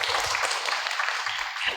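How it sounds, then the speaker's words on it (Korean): An audience applauds spontaneously at a Eunpyeong district volunteer day event, producing a dense, steady patter of many hands clapping at moderate level for a brief stretch, with no voices over it. "이렇게 자발적으로 박수를 쳐주시는 거에 대해서 끊을 이유가 없죠"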